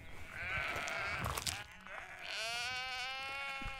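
Sheep bleating nearby on a farm pasture, two long wavering bleats one after another, moderately faint against quiet outdoor background.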